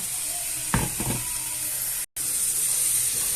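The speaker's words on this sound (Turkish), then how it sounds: "pembeleşene kadar soğanlarımızı kavuruyoruz" Finely chopped onions sautéing in three tablespoons of olive oil, a steady close sizzle with a few louder bursts of hissing as they are stirred.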